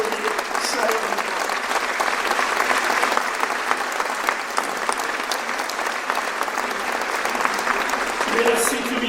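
A hall audience claps warmly and steadily for police, gendarmes and firefighters at a New Year's address in Belfort, a dense continuous round of applause lasting throughout.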